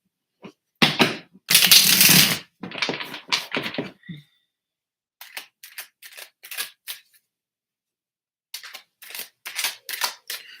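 Crisp papery riffling and flicking in short bursts with pauses, tarot cards being shuffled close by in a quiet room.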